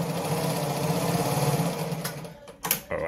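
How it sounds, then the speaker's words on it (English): A Naumann model 70 sewing machine runs at a fairly quick pace, its steady mechanical hum and rapid stitching rattle continuing for a few seconds before slowing and ending with a couple of brief clicks. "I'll quickly sew through again so you see"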